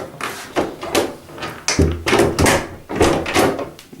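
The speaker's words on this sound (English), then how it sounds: "Door opens and closes" A door in a house on Kentish Road is opened and closed, giving a handle rattle and a solid thunk, then more knocks and taps from close by. The sounds are fairly loud and no one speaks.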